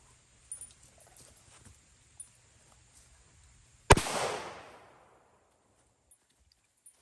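A single loud gunshot from a .45 Long Colt revolver firing a hollow point round cracks sharply midway, with a long decaying echo afterward; faint handling clicks come before it.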